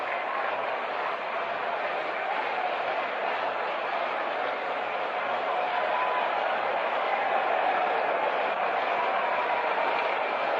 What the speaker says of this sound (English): The applause you hear below us greets the departure of the former president